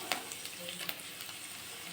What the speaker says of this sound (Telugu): ఆవాలు, కరివేపాకు వేసి బాగా ఫస్ట్ ఇలా రెడ్గా అయ్యే వరకు ఫ్రై చేసుకోవాలండి ఆయిల్లో